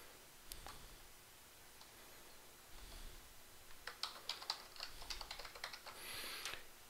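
Computer keyboard typing as a username and password are entered, faint scattered keystrokes at first, then a quicker run of close clicks, with no talking.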